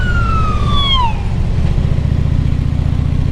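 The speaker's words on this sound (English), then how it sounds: "comes an ambulance." An ambulance siren's descending wail sweeps down and fades within the first second, followed by a steady low engine drone.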